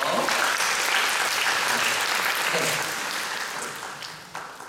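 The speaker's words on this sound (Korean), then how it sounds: "박수 한번 주십시오." Applause for a prize winner at a live magazine-style stage show with musical actors, a thick continuous crowd clapping that gradually fades toward the end, with a brief voice over it.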